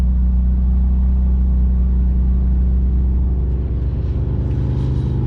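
Deep, steady exhaust rumble from a BMW Z3 2.3 while driving, heard up close and loud, with a low droning tone that swells slightly near the end.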